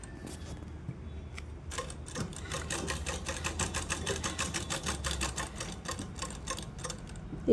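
A sewing machine runs steadily while top stitching fabric, its needle ticking in a fast even rhythm that builds and holds for several seconds, close and clear with no voices.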